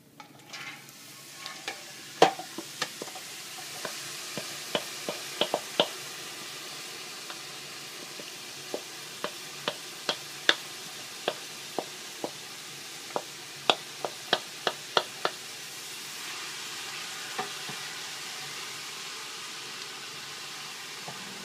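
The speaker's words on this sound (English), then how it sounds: "We're about halfway through cooking the veggies here" Vegetables for a corn and crab chowder sizzle in a pot over medium-high heat, a steady frying hiss broken by frequent sharp spoon scrapes and taps as they are stirred, with no talking.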